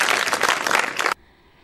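Students at a secondary school burst into dense, close clapping that lasts about a second before cutting off abruptly into quiet.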